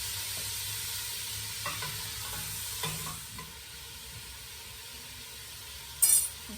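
Pork browning in a pan for jambalaya, a steady sizzle with occasional scraping stirs and a brief metallic clink near the end, close and continuous without speech.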